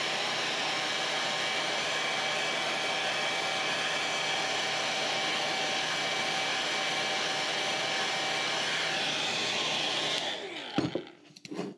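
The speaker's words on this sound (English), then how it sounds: "let's go ahead and grab the trusty hairdryer." A hairdryer blows steadily and loudly to loosen the glue on a RAM heat spreader, a constant whirring rush that cuts off near the end, followed by some brief handling clatter.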